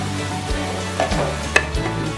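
Ribs with paprika are stirred in a hot pan, a steady sizzle and frying hiss throughout with a few scraping utensil strokes, close and fairly loud.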